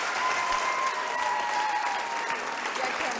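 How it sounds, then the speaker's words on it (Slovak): Audience applause at a Slovak late-night comedy show sketch, a steady, moderately loud wash of clapping throughout with a faint voice beneath it. "Veľký potlesk"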